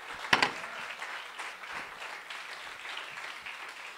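A congregation at a Sunday family service in church claps, starting with a couple of sharp close claps and then settling into a quieter, fading spread of applause.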